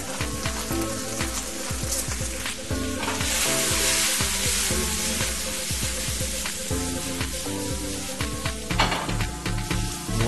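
Coriander, cumin and salt toast in a hot pan, giving a steady loud sizzle with stirring scrapes and crackles throughout, with no voices.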